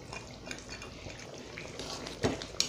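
Cumin paste goes into a simmering fish curry with potato and bori in a pan, bringing quiet scraping and stirring of a utensil, a faint sizzle, and a few sharp clinks against the pan toward the end.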